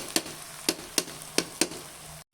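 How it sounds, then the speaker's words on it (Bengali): Rice and meat frying in a hot pan give off a steady sizzle, with five sharp, bright bursts at a fairly even rhythm. The sound is close and has no talk over it, and it stops abruptly at the end. "এই যে ভাজা হয়ে গেছে, এখন গরম পানি দিয়ে দিব"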